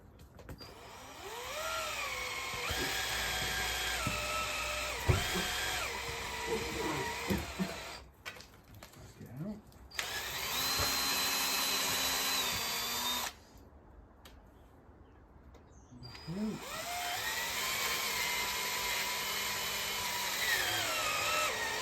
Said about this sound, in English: I might actually tap it using the drill